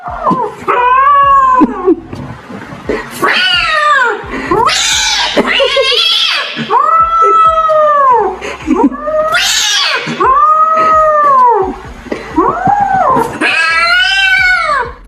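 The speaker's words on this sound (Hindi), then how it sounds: "यहाँ इस किटन को उसका ओनर नकली डॉगी दिखाकर डरा रहा था, और वो है कि बेचारी डर भी रही है" A frightened kitten cries out in loud, drawn-out meows and wails, repeated again and again across the whole stretch, close and with no other sounds around it.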